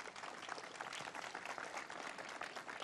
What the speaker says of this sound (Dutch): Even een groot applaus.